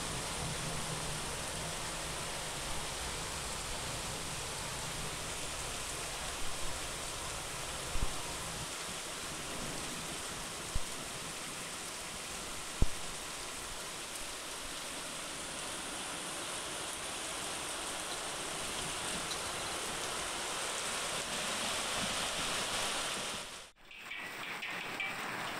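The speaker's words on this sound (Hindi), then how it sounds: "बारिश के साथ जबरदस्त ओले गिरे" Heavy rain with hailstones falling in Yamunanagar, Haryana, a dense, steady, close roar that runs without a break, with a few sharp knocks, then cuts off abruptly near the end.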